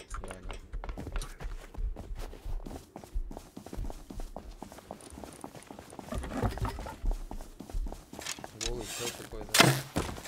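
Heavy bear footsteps in a video game, a steady run of thudding stomps through the whole stretch with a louder hit near the end, as people talk over them.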